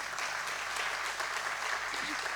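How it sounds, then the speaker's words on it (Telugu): An audience at an award ceremony applauds, a continuous dense wash of clapping from a large crowd, loud and even throughout. "సరిపోవండి, చప్పట్లు కొంచెం గట్టిగా కొట్టాలి."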